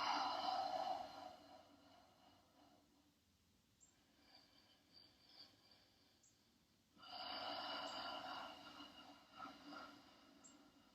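Slow, deep breathing during a mobility stretching routine: a long, breathy exhale at the start, then a quiet pause and a second full breath midway, close to the microphone with no talking.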